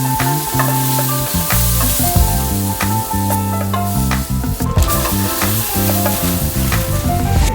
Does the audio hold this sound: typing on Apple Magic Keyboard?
no